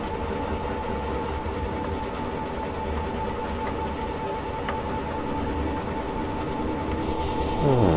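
In a train simulator game, a Swiss SBB Ae 3/6 II electric locomotive pulling cars rumbles steadily with a constant low drone and faint mechanical clanks, growing slightly louder near the end.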